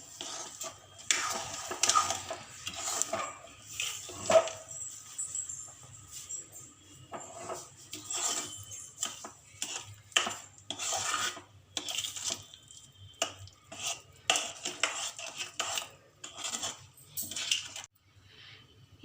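Moong dal and sugar, about one and a half cups of sugar to one cup of dal, being mixed in a pan for Ashoka halwa sweet: a steady run of scraping, clinking spoon-on-pan strokes with a low background hum throughout.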